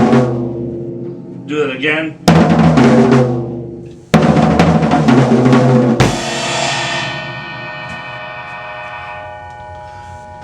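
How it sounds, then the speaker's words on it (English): A drum kit plays 16th-note triplet rolls, shifting from the floor tom to the high tom in a drum part, with loud, dense hits that end in a ringing cymbal crash. A brief voice is heard near the start. "He actually puts a 16th note triplet roll on the floor tom and then also the high tom."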